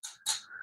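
A dog gives a brief, faint, high whimpering whine, two short bursts with a thin tone between, close and quiet.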